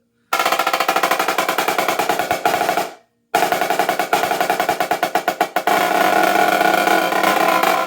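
A Premier marching snare drum rattles through fast, dense rolls and rapid strokes, loud and close, stopping briefly partway through before resuming with sharp accented hits.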